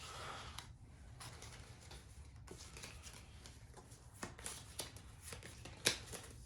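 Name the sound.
shuffling cards of Book It! wrestling card game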